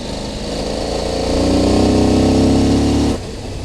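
CFMOTO Ibex 800T adventure motorcycle riding through deep loose gravel, its engine droning loud and close, rising in pitch and volume midway before easing off near the end.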